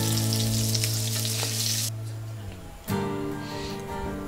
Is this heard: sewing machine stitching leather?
no